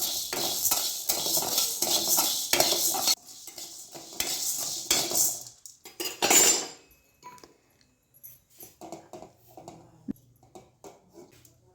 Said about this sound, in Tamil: அதையும் நல்லா பொன்னிறமாக வறுத்து எடுத்துக்கலாம்